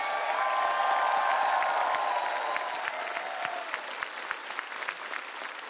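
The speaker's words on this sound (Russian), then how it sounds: "Но под наши бурные аплодисменты" Studio audience on a TV singing show breaking into applause, dense clapping from many hands under a fading musical chord, growing sparser and more scattered as it winds down.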